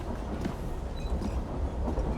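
A steam-era locomotive and wagons from the video game Assassin's Creed Syndicate rumble steadily with a continuous loud rolling roar and faint rhythmic rail clatter, with no talk.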